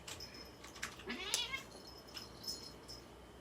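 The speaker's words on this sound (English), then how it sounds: "And the cats are fighting." Cats fight indoors during a yoga session, letting out a string of yowls and caterwauling meows that rise and fall over a few seconds, moderately near against a quiet room.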